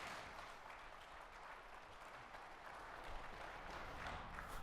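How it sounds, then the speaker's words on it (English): Applause from an audience at an energy infrastructure panel, a faint, distant wash of steady clapping from a sizable crowd with no voices over it. "Please, a round of applause for our energy infrastructure panel."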